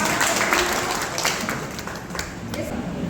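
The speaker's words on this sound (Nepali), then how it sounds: "उहाँलाई पनि एउटा जोरदार तालीको साथ" Audience applause at a formal community event in Nepal, a steady wash of clapping sustained loudly throughout as officials of civic and mothers' forums are introduced, with some voices mixed in.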